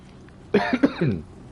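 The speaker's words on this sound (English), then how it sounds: "Sorry for the cough." A short, close burst of coughing, three quick rough hacks in a row against quiet room tone.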